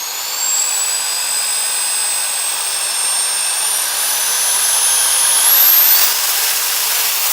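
A Makita 9 mm filing sander runs steadily on a low adjustable speed setting, a continuous high-pitched whine with a rising tone near the end, alone and fairly loud.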